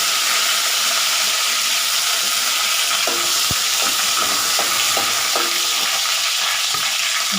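Cinnamon, cloves, cardamom, three dried red chillies and curry leaves fry in hot oil for chicken chukka, giving a steady close sizzle with a few sharp crackles and pops about halfway through.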